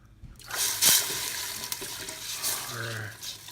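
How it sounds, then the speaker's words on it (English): Pork broth pours and splashes into a pot for a few seconds, a steady watery rush with a brief louder splash near the start. "pour in our broth"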